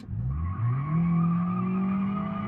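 A Toyota Camry 3.5 in BeamNG.drive launches hard from a standstill, its engine tone climbing steadily while the tires screech. The sound is loud and continuous throughout, with no voices.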